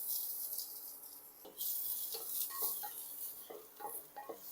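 Green chilies and onion roasting in a pan with a thin brush of oil: a bright, continuous sizzle with occasional light clinks and scrapes of stirring, close and moderately loud, with no voices.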